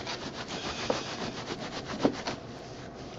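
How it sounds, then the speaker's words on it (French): Chinese artichoke tubers being rubbed together by hand to clean them, a close, soft, continuous scratchy scrubbing with gritty friction and a few slightly louder scrapes, with no voices. "Je frotte. Faut bien bien frotter apparemment."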